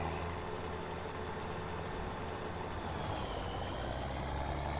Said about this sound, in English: Or how to drive a tractor